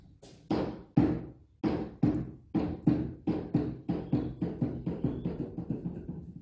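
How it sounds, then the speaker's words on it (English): A cat sets its cat tower rocking, giving a run of about fifteen hollow wooden knocks. They start slow and loud, then quicken and fade as the tower settles. No voices are heard. "That rocking sound was my cat almost knocking over her cat tower"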